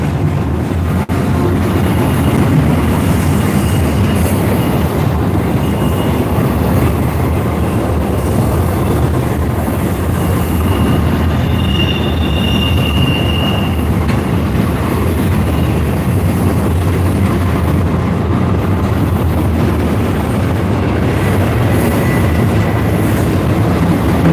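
A train passes in El Paso, Texas, heard from a one-wheel ride, as a loud, steady rumble and rattle of rail cars that holds up without a break for the whole span.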